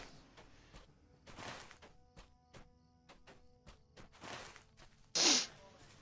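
A single sharp sneeze bursts out near the end, loud and close, after a stretch of quiet clicks and soft rustling.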